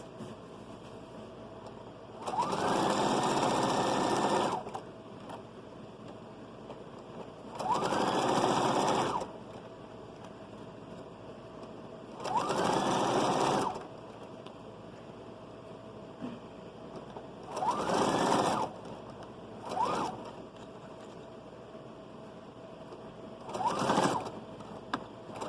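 A sewing machine stitches a children's shrug in six separate bursts, the first few longer and later ones shorter, each a steady close whir separated by quiet pauses.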